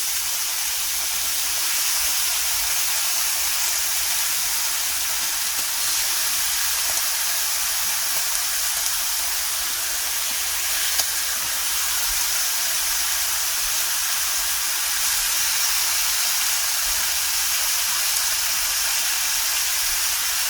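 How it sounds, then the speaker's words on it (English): Thick-cut bacon fries in a pan, a loud, steady, broadband sizzling hiss that holds evenly throughout with only tiny pops, no voices. "we're going to let this bacon fry up"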